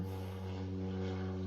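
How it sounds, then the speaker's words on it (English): An airplane drones overhead with a steady engine hum and propeller tone, moderately loud and constant, at a seaside spot in the Bahamas. "Another airplane."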